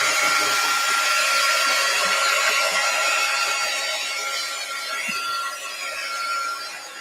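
A hair dryer blows over a wet art journal page, a loud, steady close whoosh with a high motor whine that eases slightly toward the end, no talking.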